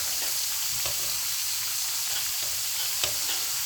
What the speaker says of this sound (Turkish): patateslerimi kızartmaya devam ediyorum